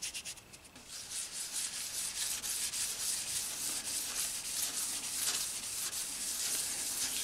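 Wet sanding an Alvarez Yairi acoustic guitar's finish with Trizact 3000 grit and Simple Green gives a continuous, soft, close rubbing hiss with gentle rhythmic swells and no talking.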